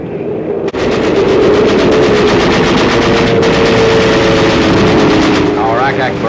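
Heavy WW2 anti-aircraft barrage at Okinawa, dense continuous loud gunfire with rapid repeating bursts and a constant roar, likely with engine drone mixed in, lasting throughout.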